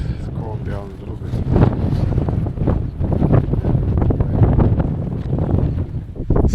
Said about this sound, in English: Hopefully the wind has calmed down a little